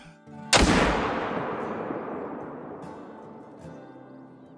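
A single loud rifle shot at a whitetail doe in the hunting video game Call of the Wild, a sharp crack followed by a long rolling echo that fades slowly.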